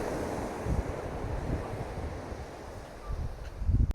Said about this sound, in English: The sound of the ocean is incredible.